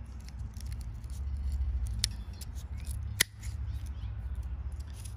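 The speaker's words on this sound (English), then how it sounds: "You don't need this long stem, so go ahead and trim that off." Small scissors snip a long stem off a dahlia tuber being divided, a couple of sharp close cuts over quiet handling noise and light rustling.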